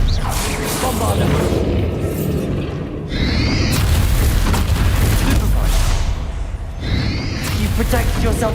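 Repeated booming blasts of the Bombarda spell in Hogwarts Legacy, heavy explosions with whooshing swells, come in waves over continuous game sound and a talking voice.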